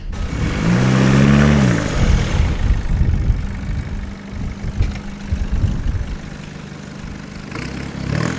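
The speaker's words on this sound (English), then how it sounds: "I'm gonna move the car and drive it across there to the other side of the shack" A car engine idles and then pulls away as the car is driven a short distance around a shack on a windy coastal site. The low, steady motor drone is close and fairly loud, with a brief rising rev near the start.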